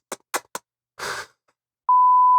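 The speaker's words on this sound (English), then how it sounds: "my phone is going off" A mobile phone goes off with a steady electronic tone that starts abruptly near the end and holds loud and unbroken, following a few short sniffs or breaths and a brief rustle.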